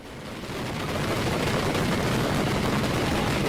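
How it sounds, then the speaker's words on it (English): A daytime professional fireworks display in Italy makes a loud, dense barrage of rapid crackling bangs that merge into a continuous roar, building quickly and then staying constant, with no voices. "Let's just say they do fireworks a little differently in Italy"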